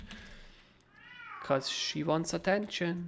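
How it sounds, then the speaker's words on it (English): A pet cat meows loudly and insistently for attention, a drawn-out wavering cry heard close by, followed by a person speaking over it. "It's just my cat screaming a little bit."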